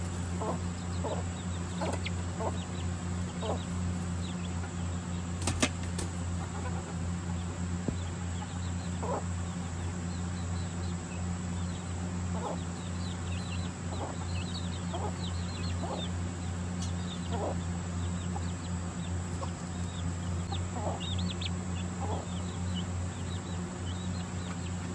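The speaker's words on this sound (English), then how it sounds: "Teaching her babies to run around the roosting" A mother hen clucks repeatedly among her chicks in a roosting area, soft rhythmic clucks over a constant background hum, with faint chick peeps scattered throughout, nearby and steady.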